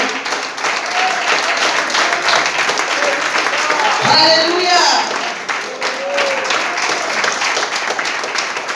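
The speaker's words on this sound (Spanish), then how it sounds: "Denle un aplauso al Señor" A church congregation applauding during a Spanish-language evangelical sermon, dense continuous clapping filling the room while a voice rings out over it.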